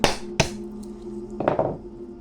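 Walnuts being cracked by hand, the old way without a nutcracker or hammer: two sharp cracking snaps near the start, then a pair of closer crunching cracks about a second later, close and fairly loud.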